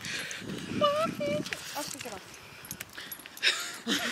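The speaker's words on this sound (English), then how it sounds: "Guess who's having trouble with their dog?" Dog sounds close by indoors, short whines and whimpers mixed with shuffling and tapping movement, while people talk over them.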